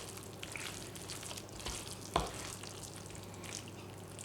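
Moussaka filling sizzles quietly in a pan as it is stirred a final time, a soft steady frying hiss broken by a few light scraping clicks, with one sharper knock midway.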